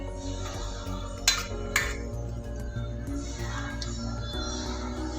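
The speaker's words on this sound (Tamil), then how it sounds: "நல்லா மஷ்ரூம் ஃபுல்லாக மிக்ஸ் ஆகிற மாதிரி நல்லா மிக்ஸ் பண்ணிக்கணும்" A spoon scrapes and clinks against a pan while mushrooms are mixed into a thick gravy, with two sharper metallic knocks near the start over a steady low background hum.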